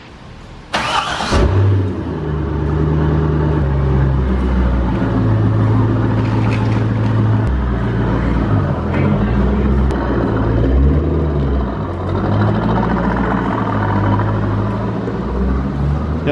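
A Corvette drift car on digressive coilovers starts up with a sharp burst, then drives with a loud, steady mid-pitched engine drone that rises and falls as it accelerates, close and without talk.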